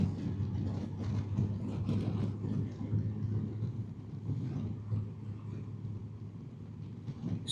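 A brand-new 2025 Honda Goldwing motorcycle cruises on the freeway, a steady low engine rumble mixed with wind roar heard from the rider's position, continuous and moderately loud throughout.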